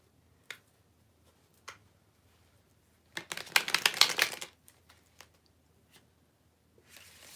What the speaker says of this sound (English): Let me just shuffle these one more time.